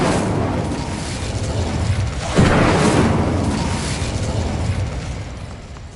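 A fire spell bursts in Hogwarts Legacy with a loud whooshing boom that swells suddenly midway and then roars on and slowly fades, heard alone without talk.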